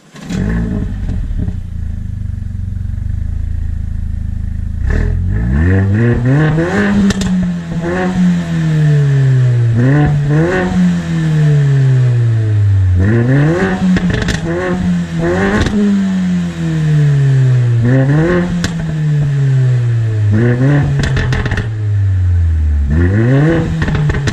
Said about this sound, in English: This car has a ridiculous exhaust on it. Cracks, pops all over the place.